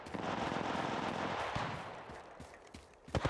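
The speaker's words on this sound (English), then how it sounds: "Getting shot at." Gunfire in the mobile battle-royale game Apex Legends Mobile: dense, rapid automatic bursts mixed with scattered single shots, loud and continuous, ending with a few sharp cracks.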